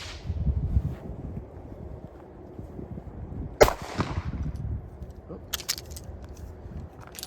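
Gunshots from a Fusion Firearms XF Pro pistol on a shooting range, a few sharp, loud reports spaced seconds apart with quieter handling noise between them.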